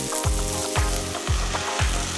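Steak laid into hot vegetable oil in a pan sizzles loudly and continuously, with four rhythmic bursts of crackling frying noise at roughly half-second intervals, no talking.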